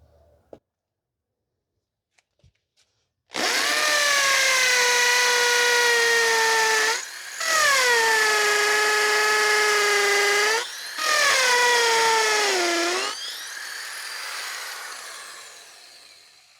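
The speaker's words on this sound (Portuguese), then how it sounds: "Agora vamos fazer o furo com a broca 6 de vidia da Makita." A Makita power drill fitted with a 6 mm carbide bit bores a hole in three loud sustained runs, its whining pitch sagging under load, with short pauses between runs and a winding down at the end.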